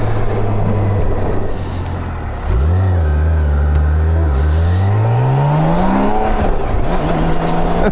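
A BMW K1600GTLE six-cylinder motorcycle engine roars loud and close on an evening ride, dipping and then climbing steadily in pitch as it accelerates through the gears, with constant wind rush underneath.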